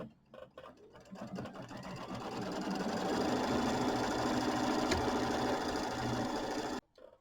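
A sewing machine quilting a star background pattern on a Kimberbell mini quilt runs in a steady, fast, even whir. It builds up over a few seconds, holds for several more, then stops abruptly.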